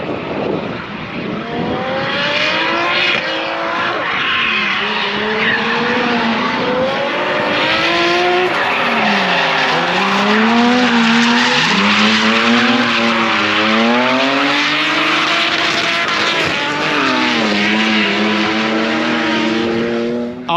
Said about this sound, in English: the turbo drift cars sound the best. Hunters a limiter banging going on